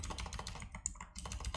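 Quick, quiet keystrokes tap out on a computer keyboard in an irregular burst of close clicks, with no voices over them.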